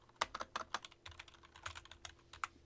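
Brief burst of typing on a computer keyboard, a quick irregular run of close, crisp keystrokes with no talk over it.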